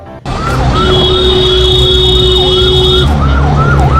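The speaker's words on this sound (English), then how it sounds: "Can you listen to something from the ambulance that is running on this video?" Loud, close ambulance siren wailing in repeated rising and falling sweeps over engine rumble, with a steady high tone sounding through the middle.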